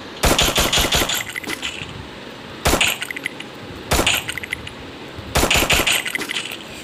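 Rapid automatic gunfire from the Free Fire video game rattles out in four sharp, loud bursts separated by short pauses, each a dense volley of shots with crisp, glassy edges.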